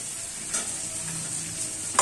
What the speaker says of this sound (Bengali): তো আমি আরেকটু ভালো করে ভেজে নিই 2-4 মিনিট